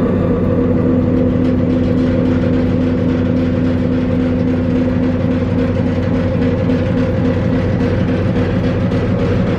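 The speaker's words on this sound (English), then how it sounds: "with, I guess, the massive diesel engines" Diesel engines in the engine room of the WW2 Royal Navy submarine HMS Alliance run at a steady, loud, droning rumble with a constant hum, unchanging throughout.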